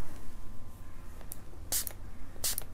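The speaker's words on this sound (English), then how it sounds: "Okay, I think let's just spray that." A spray bottle mists water onto a watercolor-painted rock, three or four short, sharp hissing squirts over a quiet room background.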